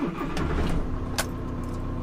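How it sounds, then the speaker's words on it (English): A van's engine is started during a mechanical inspection, with a short burst of cranking and a steady idle hum throughout, close and moderately loud, with a brief jingle of keys. "So now it comes to starting the vehicle."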